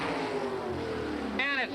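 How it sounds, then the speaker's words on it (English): A 1987 World of Outlaws sprint car at Hales Corners runs with a misfiring engine as it passes, giving a rough, uneven roar under a commentator's voice, ending in a quick rising swell. "The engine not sounding as healthy as it might."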